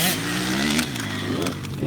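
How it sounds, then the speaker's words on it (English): Motocross motorcycle engine revving under throttle during a training session, a steady loud buzzing drone with rising revs, mixed with nearby talk and a shout. "kick it with some throttle."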